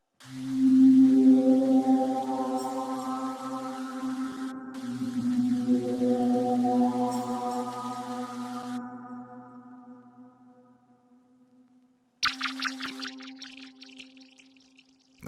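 Juno synthesizer FX sound in a lofi beat, long swelling, gliding tones that rise and fade like a whale call, followed by a brief brighter burst, heard alone without talk.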